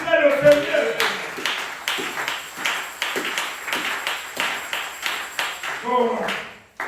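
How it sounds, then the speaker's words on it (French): Congregation clapping in rhythm during a Tuesday church worship service, a steady pulse of claps with voices speaking or singing at the start and end. "Applaudissez le Seigneur."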